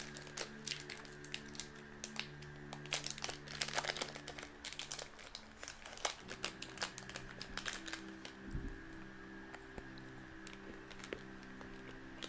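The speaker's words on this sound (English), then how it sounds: "You may or may not be hearing a candy bar wrapper crinkling in the background" A candy bar wrapper crinkling in the background: faint, irregular crackles and rustles scattered across the stretch over a steady low electronic hum.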